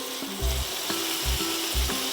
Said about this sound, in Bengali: মশলাটা ভালো করে আমি একটু কষিয়ে নিলাম